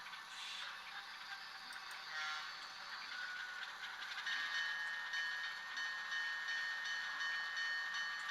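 Small model railway switcher locomotive running on a layout, giving a faint, steady whir of tiny gears and motor with light ratcheting clicks and rail rattle throughout.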